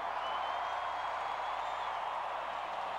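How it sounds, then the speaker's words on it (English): A large crowd at the Toronto Blue Jays 1992 World Series parade roars in a steady wash of distant cheering and applause, with no single voice standing out. "There is not a person that is not on their feet and cheering wildly."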